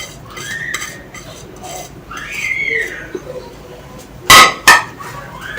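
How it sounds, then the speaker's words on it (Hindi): Spoon scraping and stirring through a potato and chicken sandwich filling with chopped onion, dried coriander and salt, several soft clinks and scrapes, then two sharp louder metallic knocks near the end; no talk. "वैसे अच्छे से मिक्स कर लेंगे।"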